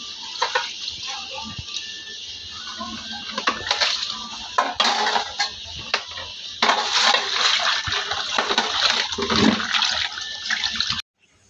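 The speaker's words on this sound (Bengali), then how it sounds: "আস্তে আস্তে মাছটি ধুয়ে নিতেছি।" Water splashes and sloshes with scattered clinks as fish is washed by hand in a pot or basin, continuous and fairly close for several seconds.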